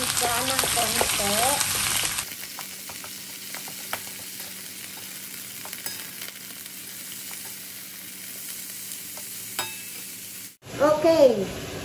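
Meat browning in a warm frying pan, a steady low sizzle with occasional stirring scrapes, bracketed by short bursts of talk at the start and end.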